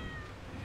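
A cat meows once in the farming video game Stardew Valley, a short faint mew set against a soft game background.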